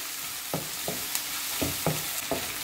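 Sliced onions with turmeric powder being stirred in a frying pan: a soft sizzle under about five distinct scraping strokes at an uneven pace, close and fairly quiet.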